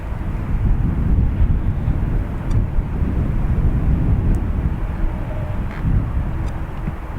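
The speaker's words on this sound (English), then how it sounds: "Ryanair heading to Reus." Ryanair airliner departing Dublin Airport for Reus gives a continuous close engine rumble, fairly loud with slight swells, with wind buffeting the microphone and no voices.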